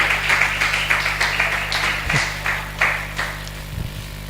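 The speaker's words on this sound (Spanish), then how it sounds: "Dale un aplauso al Señor." Church congregation clapping in rhythm, a loud close series of regular claps at a quick steady beat that gradually loosens and fades, with a low electrical hum underneath.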